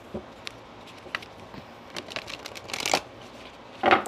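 Oracle cards being shuffled by hand: soft papery riffles and flutters in several short bursts, close and fairly quiet, with a louder rustle near the end and no talk.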